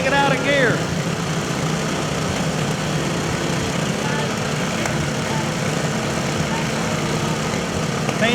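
Small lawn mower engines drone steadily at a county fair demolition derby in Ohio, a continuous loud mechanical hum with crowd noise and announcer talk over it throughout.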